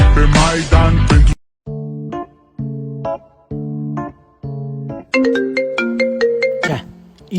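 A mobile phone ringtone plays loud and close: a repeating melodic pattern of short tone bursts separated by brief gaps, the notes climbing higher near the end, after an opening burst of louder broadband sound.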